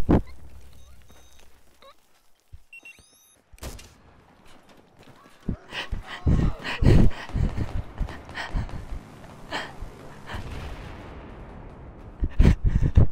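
A grenade goes off in a first-person shooter game, with a loud blast followed by several rapid gunfire bursts and rumbling explosions from nearby.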